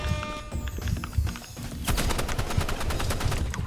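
Rapid gunfire from a Roblox Rivals match crackles in bursts, with quick repeated shots clustering into short volleys, moderately loud with no talk over it.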